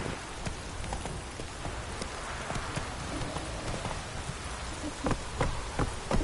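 In The Witcher 3: Wild Hunt, steady rain patters across the surface while a horse's hooves clip-clop in a slow walking rhythm, the footfalls growing slightly louder toward the end.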